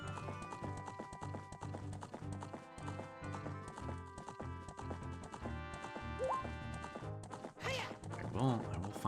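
Galloping horse in the Zelda Spaceworld '97 beta video game: a steady, rhythmic clip-clop of hooves running continuously over layered game music, with a brief neigh-like burst near the end.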